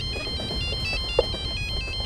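A mobile phone rings with an incoming call, its electronic ringtone repeating a quick stepped melodic pattern steadily and fairly loud throughout, with a brief click partway through.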